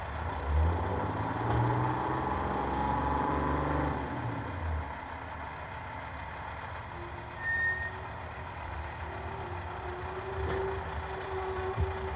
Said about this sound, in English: Then they turn around and reverse the last few hundred yards to the log landing.